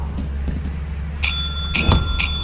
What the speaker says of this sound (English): I want to ring the bell.